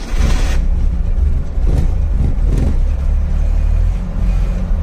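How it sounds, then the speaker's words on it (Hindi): A manual car's engine runs steadily after starting, a loud, continuous low rumble with a few brief rises in revs, heard alone without talk. "गाड़ी हो चुकी है स्टार्ट,"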